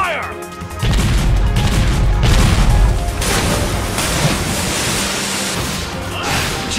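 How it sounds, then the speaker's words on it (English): Heavy ship cannon fire in the action game Sengoku Basara Samurai Heroes lands as loud crashing booms, with a rumbling blast that swells and trails off over a dense, noisy battle din. "Launch the super sonorous ship cannon."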